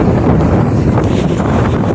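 Strong wind roars steadily and loudly across the microphone on a stormy day with whitecaps on the sea, a constant buffeting rush with no pauses.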